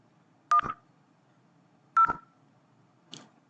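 Dialing tones from an IP phone placing a call to another IP phone in a network setup: two clear beeps, each followed by a short burst, then a fainter tone, spaced over a quiet background.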